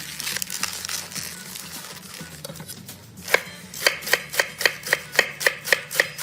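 A knife chops rolled Swiss rainbow chard leaves into chiffonade on a cutting board, beginning with soft irregular cuts and settling into a steady, crisp run of evenly spaced chops, close and clear.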